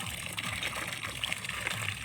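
Water pouring steadily from a newly finished deep well, a continuous close splashing gush with no talk over it.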